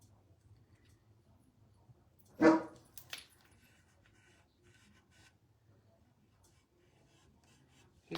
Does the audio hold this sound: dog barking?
yes